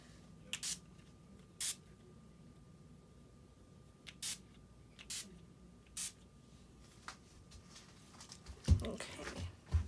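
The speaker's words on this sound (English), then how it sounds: "So I have this matte finish NYX spray." NYX matte finish setting spray misted in several short, separate bursts, close and fairly quiet over a low background hum, with louder rustling handling noise near the end.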